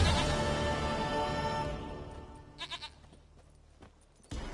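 Goat bleating in The Witcher 3: Wild Hunt, a few short bleats midway after a stretch of ambient game music and noise, moderately loud against the background.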